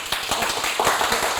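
Rapid, steady hand clapping greets guests at a welcome gathering: a dense run of sharp, close claps for about a second and a half, with no talking.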